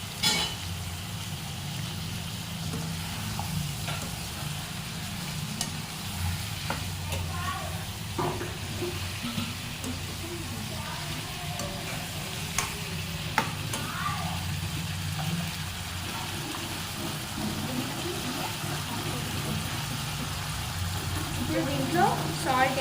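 Chicken for a simple curry fries in a pan with a soft continuous sizzle and occasional clicks, while a person talks over it throughout.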